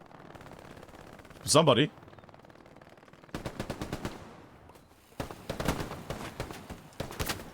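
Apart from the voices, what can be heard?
machine gun fire in video game Hell Let Loose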